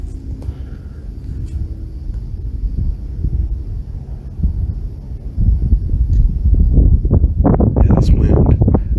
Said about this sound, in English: Yeah, that's wind.